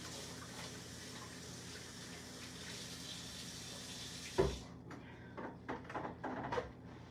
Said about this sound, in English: let me wash my hands before I open the other can